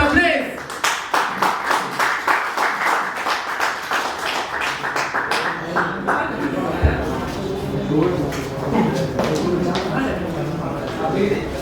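An audience welcomes a shayari performer on stage, first with rhythmic clapping in unison, then breaking into looser scattered applause, with voices talking over it.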